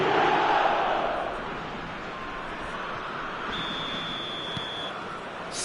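Stadium crowd roaring in an eFootball 2026 match, a broad steady wash of massed voices that swells early and then holds at a dense, loud level with a brief whistle-like tone partway through.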